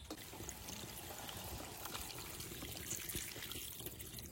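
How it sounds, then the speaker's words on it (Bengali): Water poured into a pan of potato curry, a faint, steady splashing trickle heard alone at low level. "এবার জল দিয়ে দেবো।"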